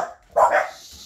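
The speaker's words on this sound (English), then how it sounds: "No barky barky." A young puppy, one of a nursing litter, lets out a single short, sharp bark at close range, followed by quiet.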